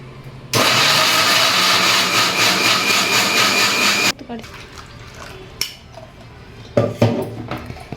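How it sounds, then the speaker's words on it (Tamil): Mint tea is poured through a strainer in a village kitchen, a loud, steady splashing rush for a few seconds, followed by quieter metallic clinks and taps of the vessel and strainer. "இது புதினா போட்டதுனால வடிகட்டுறேன் ஃப்ரெண்ட்ஸ்"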